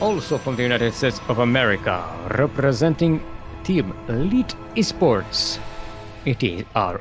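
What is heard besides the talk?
No everyday noise stands out behind the speech.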